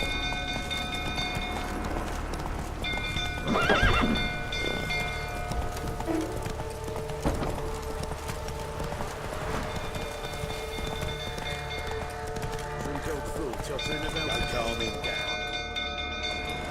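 Roach, the horse in The Witcher 3, gallops in a quick, steady clip-clop of hooves that runs throughout, with shouting voices breaking in over the hoofbeats and a low game rumble beneath.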